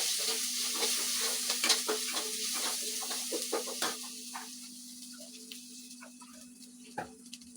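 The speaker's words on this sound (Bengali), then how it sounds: "আদা রসুনের পেস্টটা ছিটবে" Ginger garlic paste spatters in hot oil in a pan, a close, continuous sizzle broken by scattered crackling pops and occasional stirring scrapes, with a faint steady hum underneath.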